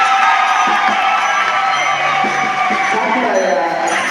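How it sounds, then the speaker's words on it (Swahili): Crowd applause and cheering at a community honour ceremony for an elder, a steady loud wash of clapping with whoops and shouts throughout, close and continuous. "Tumpigie makofi mzee."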